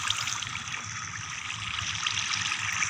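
Steady flowing water from a Minecraft cave by a ravine, a continuous trickling, bubbling wash that stays even and fairly close throughout, with no talking over it.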